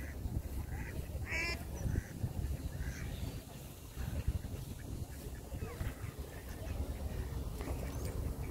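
Ducks at Balboa Park, a city park with swan-shaped rental paddle boats, giving occasional faint quacks and caws over a steady outdoor murmur of background noise.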